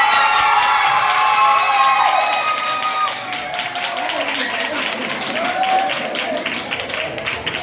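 Audience at a youth talent test results ceremony applauding and cheering for the overall trophy presentation, a steady wash of clapping and crowd voices with some shouts throughout, loud and continuous.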